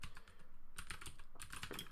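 A computer keyboard clatters under rapid typing practice, dense quick keystrokes coming in bursts with a brief pause between, close and fairly quiet, no speech.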